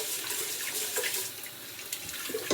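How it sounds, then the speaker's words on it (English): Rice is swished around in running water for rinsing, a steady close splashing and sloshing with small bursts of stirring and no talking. "I like to rinse my rice 3 times. So I swish it around, wash the rice,"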